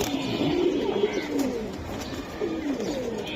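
A male Boil Giribaz pigeon, a large roughly arm-length bird, coos in repeated low rolling phrases, close and clear, with no talking over it.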